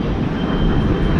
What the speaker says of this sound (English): It's an express train, New York City Subway.